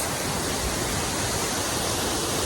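Strong waterfall on a creek in Washington State, a loud, unbroken roar of rushing water filling the whole clip with no voices.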